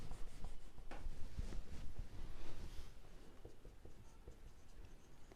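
A pen writing steadily on paper while worked GST figures are noted in a class 10 algebra lesson on financial planning, with continuous close scratching and scribbling strokes.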